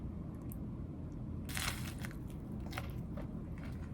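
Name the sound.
biting and chewing food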